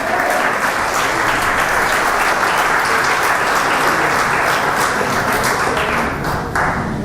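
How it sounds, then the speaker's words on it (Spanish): A church congregation at a convention bursts into loud, sustained applause, dense and steady from start to finish, filling the hall before tapering slightly at the end. "Dale un fuerte aplauso al Señor por eso."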